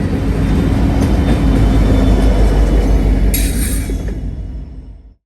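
A freight train led by an SD70 rebuild locomotive rolls downhill near Enon below full Notch 8 power, a loud, steady close rumble of engine and wagons that holds, then fades away in the last second.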